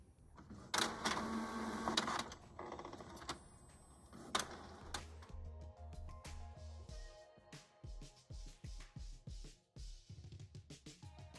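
Inkjet printer running a sublimation design print, with clicks, whirring carriage passes and rhythmic mechanical thumps, fairly faint and close, no voices.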